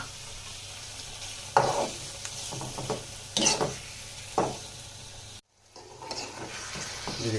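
Baim eel fish frying in oil with spices, a quiet continuous sizzle under several close scrapes and stirs of a spatula, with one brief gap near the end.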